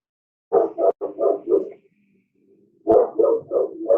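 A dog barks at a mailman in a burst of rapid, close, loud barks, then pauses for about a second before a second burst of several barks.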